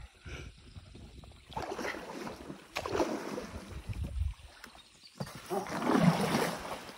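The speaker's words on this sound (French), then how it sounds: "Le courant est fort et trop violent ici." Rushing river water surges around a small boat on an island exploration, the turbulent current swelling and ebbing in loud washes, with wind buffeting the microphone.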